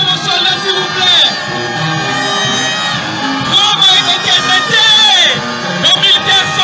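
Schoolchildren at a school complex cheer and shout for visiting soldiers, a loud, close crowd of high voices whooping and yelling in surging waves, with a voice over a loudspeaker between bursts.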